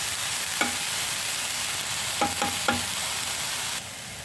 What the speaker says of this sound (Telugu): ఈ ప్రాన్స్ డ్రై రోస్ట్ చేసుకుందాం బాగా రోస్ట్ చేసుకోవాలి